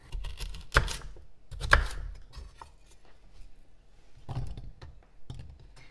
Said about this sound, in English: I'm just gonna rough chop everything and throw it in there